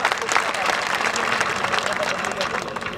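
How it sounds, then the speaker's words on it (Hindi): Crowd applause for a swami's speech at a rally in Bikaner, Rajasthan, brief dense clapping from many hands with a murmur of voices underneath throughout. "इनके लिए तालियां बजाइए"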